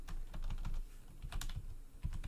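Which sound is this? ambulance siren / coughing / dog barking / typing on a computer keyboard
typing on a computer keyboard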